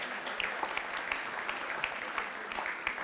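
A crowd at a staff gathering keeps up a steady round of applause, many hands clapping together in a continuous patter with a few sharper claps standing out, moderately loud and without speech.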